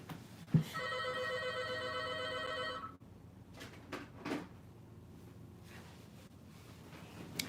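A telephone rings with a steady electronic trill for a few seconds and then stops, followed by faint clunks and handling noises as the phone is dealt with.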